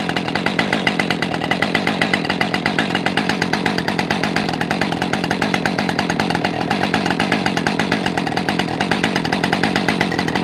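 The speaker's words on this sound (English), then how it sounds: "I'll even throw in the chainsaw revving up loop too." A chainsaw runs continuously at high, steady revs, loud and close, with a dense buzzing drone and no pauses or voices.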